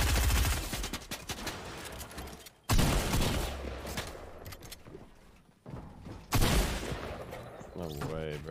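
Sniper gunfire in a shooting video game comes as loud, sharp blasts that return every few seconds, each trailing into a dense, noisy tail heard up close.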